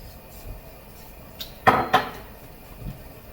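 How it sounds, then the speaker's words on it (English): A utensil stirs chicken broth in a cooking pot, giving two quick metallic clanks against the side in close succession, fairly near, with quiet background between. "I'm adding in 2 cups of chicken broth. Kind of give that a little stir just so everything gets in there."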